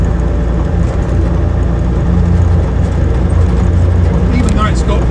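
Low, steady rumble from the 35-inch tyres of a 2007 Land Rover Defender 110 TD5 double cab on the road, blended with continuous engine drone, loud and close throughout.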